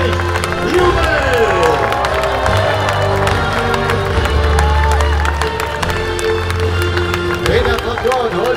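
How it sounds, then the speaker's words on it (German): Audience at a knight tournament show in an adventure park cheers and claps, a dense crowd roar with shouts rising over a loudspeaker voice and music. "Applaus und Jubel."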